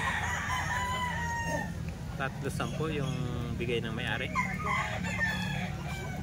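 Roosters crow and hens cluck among seven-month-old golden-feathered fighting cocks offered for sale, the birds close and steady beneath someone talking over them.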